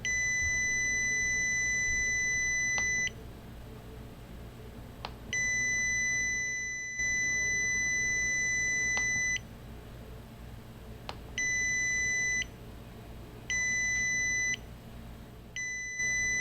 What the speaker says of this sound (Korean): 지금까지 실습을 통해 부저에 대해 알아보았습니다.